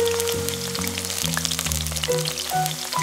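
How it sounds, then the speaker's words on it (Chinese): Ginger and garlic stir-frying in a generous amount of hot cooking oil in a wok give a continuous, fine crackling sizzle that runs steadily beneath prominent background music. "热锅加入稍多点食用油，油热后加入姜蒜一起翻炒"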